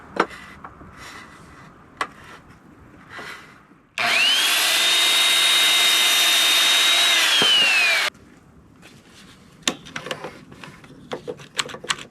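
A power saw cuts through wood for a vacuum cart in a loud, steady whine. It lasts about four seconds, then cuts off sharply, with quiet knocks and handling sounds before and after.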